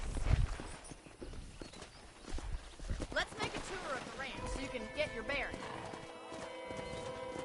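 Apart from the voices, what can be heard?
horse hooves trotting in video game Red Dead Redemption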